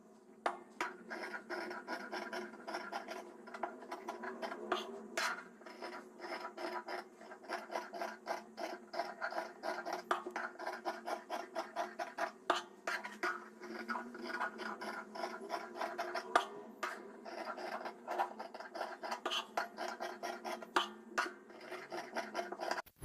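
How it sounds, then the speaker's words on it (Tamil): Scissors snip through surplus main silk saree fabric, a steady run of close, quick crisp cuts and rustles with no talk. "இப்போ நம்ம எக்ஸ்ட்ரா இருக்கிற இந்த மெயின் ஃபேப்ரிக்கெல்லாம் சிசர் வச்சு கட் பண்ணிக்கலாம்."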